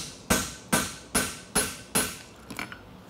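A hammer strikes a bob punch on a St. Croix Advantage horseshoe to form a clip: five sharp metallic blows at an even, steady pace, close and loud, followed by a couple of lighter clinks.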